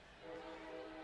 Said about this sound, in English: the sound of a train horn in the Midwest is the sound of bliss